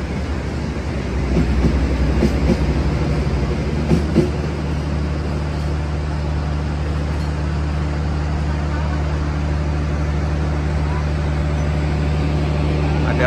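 Pendalungan passenger train passing at night, a loud steady rumble of wheels and carriages with a sustained low hum, rolling continuously nearby with occasional clanks.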